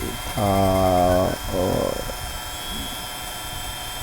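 A repaired Mercedes W124 260E engine with a faulty fuel distributor runs at full throttle during a test, giving a loud, steady droning roar that drops off, then a shorter second burst, with a brief voice.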